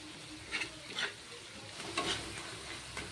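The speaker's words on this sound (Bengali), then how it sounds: "হলদির গুঁড়োটা দিয়েও ভালো করে একটু মশলাটাকে ভেজে নেব।" Spices frying with turmeric powder in a pan for a tilapia fish curry: steady oily sizzle under several distinct scraping stirs, the louder strokes landing at irregular intervals, close and fairly quiet with no talk.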